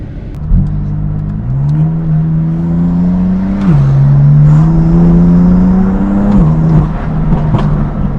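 A BMW M4 sports car engine revs loud and close while driving, the note climbing through the gears and dropping at each shift, with no talk over it.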